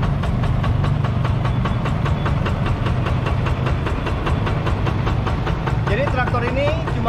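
A Yanmar TF 85 diesel engine on a rice-field plough tractor idles with a steady, rhythmic knocking chug, close and fairly loud throughout, with a brief voice near the end.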